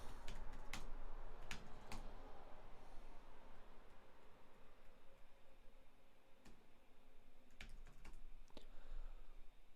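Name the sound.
typing on a computer keyboard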